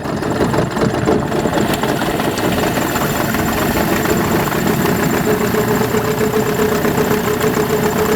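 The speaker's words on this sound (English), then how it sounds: "Turn the spreader on" Powered spreader running steadily while broadcasting DamIt dam sealer granules over a pond bed, a continuous motor drone with faint rattling that holds even and close throughout, with no talking.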